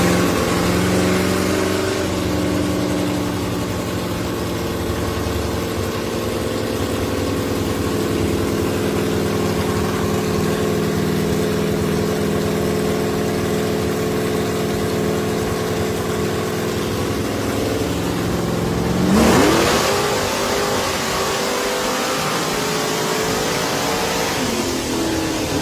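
A 1962 Chevrolet Impala pro street nostalgia superstock drag car idles loud and lumpy up close, with a sharp rev blip late on before settling back to a rough idle.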